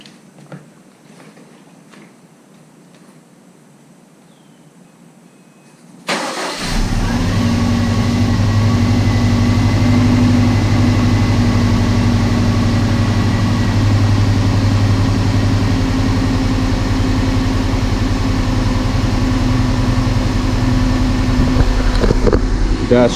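Built Subaru STI engine firing up after a swap, a sudden loud start after quiet, then settling into a steady, rumbling idle that holds close and strong to the end.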